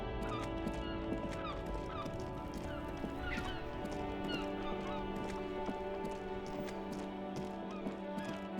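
A horse whinnies and its hooves clip-clop in a Disco Elysium video game scene, fairly faint against a busy ambient backdrop with scattered bird-like chirps.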